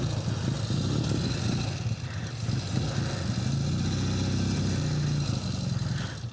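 A 1974 Norton motorcycle engine runs close by with a steady, throaty rumble and slight revving swells, loud and continuous with no one talking.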